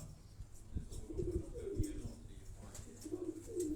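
Teddy pigeons coo softly in low, repeated throaty calls, faint and somewhat distant against light background noise.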